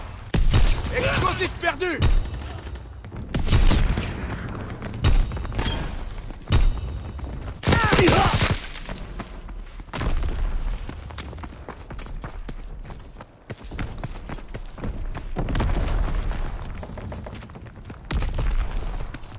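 Mortar fire and explosions in a WWII game set at Pointe du Hoc: repeated heavy booms and thuds at irregular intervals, some loud and close, others more distant, with brief speech in between.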